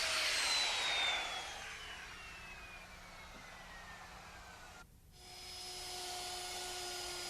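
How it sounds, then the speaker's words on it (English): A router rounds over the ends of wooden deck rails with a high, steady whine that winds down in pitch, cuts out briefly, then spins up again to a thinner constant tone. Nobody speaks. "After the balusters are in, I like to add a few finishing touches with the router."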